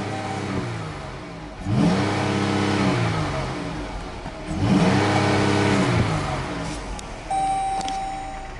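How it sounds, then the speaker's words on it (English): A 2014 Dodge Durango SUV engine running steadily, revving up sharply twice with a rising whine, then settling back between revs; loud and close. "Sounds great when you rev it up."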